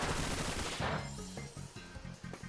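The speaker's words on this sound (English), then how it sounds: "Okay, Bullet Seed." Bullet Seed attack in a Pokémon video game: a rapid burst of sharp, repeated popping hits in quick succession, loud at first and then continuing as a string of distinct percussive shots.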